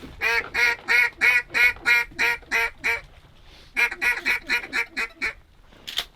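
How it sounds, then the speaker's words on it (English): Wild ducks in an estuary quack in two fast runs of loud, evenly spaced calls, about ten in the first burst and a second string after a short gap, ending with a single call. "You can hear ducks all the way through this estuary."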